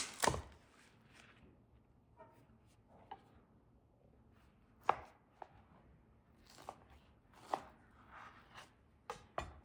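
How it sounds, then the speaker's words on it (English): Sirloin steak is chopped with a knife into 1-inch pieces on a cutting board, producing sparse, irregular sharp cuts with thuds, close and fairly faint, and no talking in between. "So I'm going to cut these open and chop them into 1-inch pieces."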